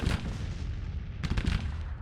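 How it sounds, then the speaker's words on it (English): Napoleon cannons firing in the Civil War strategy game Grand Tactician: a few heavy booming shots in quick succession over a continuous low rumble of battle, with no speech. "Oh, the cannons are also opening up, and it seems like it's the Napoleons"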